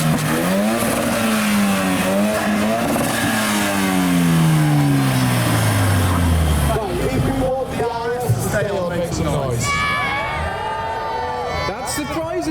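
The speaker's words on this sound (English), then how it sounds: "we're now getting a Mark III Focus RS against the Mark 1 Focus" A Mark III Ford Focus RS and a Mark 1 Focus with an ST170 engine racing on a street sprint, engines revving hard with rising and falling pitch sweeps as the cars pass, loud and close, with a crowd and voices talking over it.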